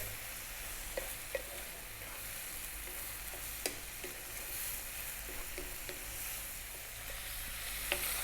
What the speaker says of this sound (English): we'll continue stir frying away.